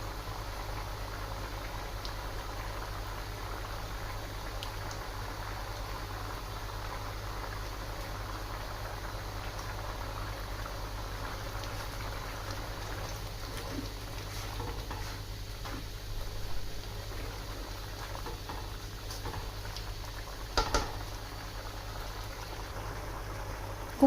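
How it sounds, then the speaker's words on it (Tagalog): Coconut milk with pork bubbling at a steady simmer in a pot, a soft continuous burble with occasional louder pops, fairly quiet and without voices. "kumukulo na yung ating gata at talagang sumisiksik na dun sa ating pork"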